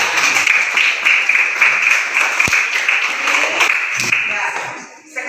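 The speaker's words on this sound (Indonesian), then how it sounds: "Tepuk tangan buat Pia." A classroom of students applauds a classmate, a steady burst of clapping that fades near the end, with voices mixed in underneath.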